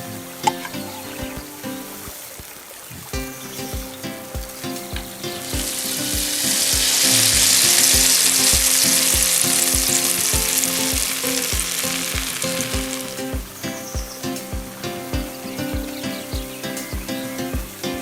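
Fish, garlic and spices frying in a pan, with a strong steady sizzle that swells loud in the middle and then eases, over a regular tapping rhythm in a village kitchen.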